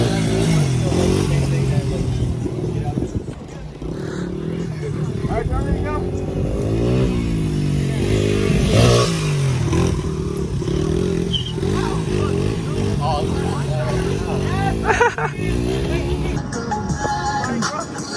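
A two-stroke motorcycle engine revs near a skate park during a cruise event. Its buzzing pitch rises and falls repeatedly, mixed with other engine noise and people talking close by.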